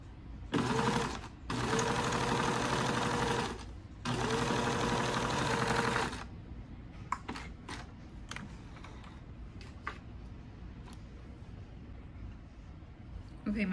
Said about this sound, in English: So I'll sew my first line of stitching